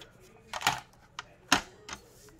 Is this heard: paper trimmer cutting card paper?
yes